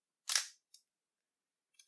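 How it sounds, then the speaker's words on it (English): Mechanical shutter of a Nikon F film camera firing once, a compact, clean snap with a brief ringing tail, followed by two faint small clicks. Near and isolated in silence. "The shutter itself has a very compact, clean sound to it"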